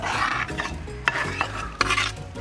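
Onions for chicken rice are stirred in hot oil in a pan, a close, continuous scraping and sizzling with a few sharper utensil knocks against the metal, and no talking.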